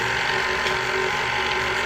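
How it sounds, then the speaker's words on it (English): Electric stand mixer beating pistachio chocolate chip cookie dough, a steady close mechanical whir with a faint grinding rattle, continuous and even throughout. "we're gonna lower our mixer down."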